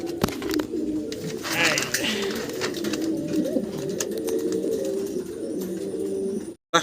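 Pigeons coo at a pigeon farm, repeated low rolling calls close by, mixed with fluttering, handling noises and a few sharp knocks.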